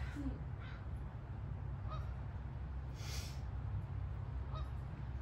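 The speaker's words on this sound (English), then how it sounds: "I can hear the geese." A few distant geese honk now and then over a steady low rumble of background noise.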